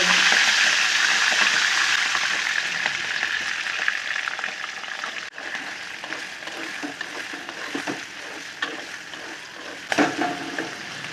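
Shrimp hit hot oil in a pan and sizzle loudly at first, the hiss easing gradually over several seconds, with a few small utensil clinks near the end.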